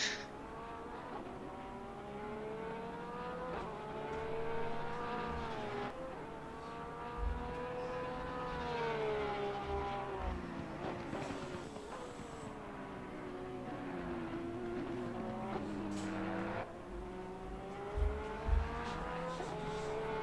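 GT race cars lapping Zolder in Assetto Corsa Competizione, multiple engines droning and shifting through gears with repeated upshifts and downshifts, brief tire squeals and clunks, steady and moderately quiet throughout.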